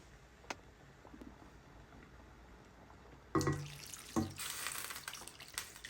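Water runs from a kitchen tap into a pot of palm nut soup, starting as a sudden splashing gush and continuing as a steady, close-up stream with a few brief spurts.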